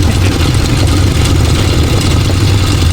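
A grey tractor engine runs with a steady low chugging rumble, loud and close, unchanging throughout, with no talking.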